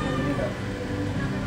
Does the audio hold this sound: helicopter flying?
no